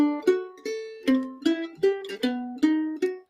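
Mandolin chords, each played from its root note, strummed one after another in a steady rhythm. About eight bright plucked chords ring close and clear, with no talking.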